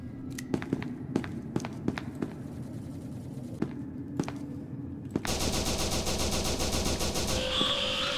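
Gunfire in SCP: Secret Laboratory: a few scattered single shots and footsteps at first, then a dense, loud automatic burst that continues to the end.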